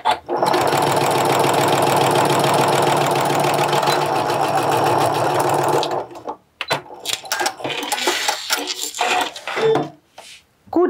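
A sewing machine runs fast and steady for about six seconds while narrow-edge topstitching a homemade fabric backpack, then breaks into short, uneven bursts of stitching and handling noise.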